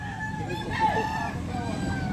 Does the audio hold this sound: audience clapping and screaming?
no